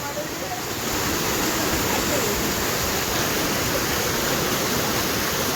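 Sathodi Falls waterfall, a dense, unbroken roar of falling water, loud and steady throughout with no talk.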